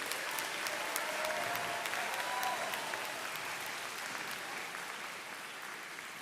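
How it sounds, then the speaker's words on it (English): A graduation audience at a Brown Deer High School ceremony claps steadily and fairly loudly, a dense wash of applause that holds for several seconds and eases slightly toward the end. "Let's give Nathan Tock another round of applause, please."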